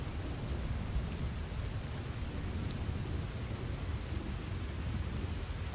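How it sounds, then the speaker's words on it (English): A thunderstorm with steady heavy rain hissing on surfaces and a continuous low thunder rumble underneath, dense and unbroken throughout. "the fuck did this storm come from?"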